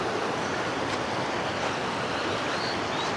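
Steady broadband rush of a mountain stream beside a campsite, continuous and fairly loud, with no voices or other distinct sounds.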